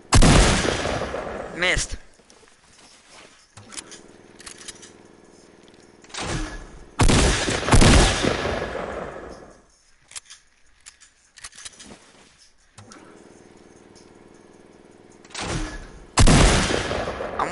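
Fortnite gunfire crackles in several loud bursts, with sharp broadband shots clustered at the start, middle and end, while a player talks briefly between them.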